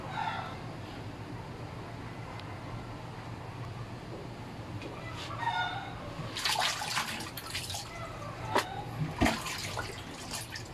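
Alugbati leaves being rinsed under a running tap in a kitchen, a steady low water rush with splashy bursts as the greens are handled, close and moderately loud.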